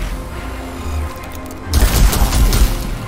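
Gunfire in the Warhammer 40,000: Mechanicus game, a low rumble followed by a loud booming burst of shots and crashing impacts in the final seconds, no talk.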